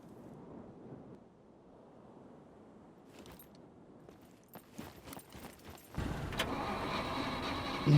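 A vehicle engine turns over and starts in the survival game Scum, with a few clicks and cranking bursts building into a steady, loud engine roar that takes over the last seconds, all over a faint outdoor ambience.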